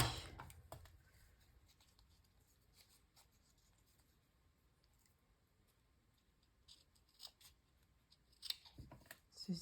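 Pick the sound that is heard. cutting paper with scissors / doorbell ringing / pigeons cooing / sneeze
cutting paper with scissors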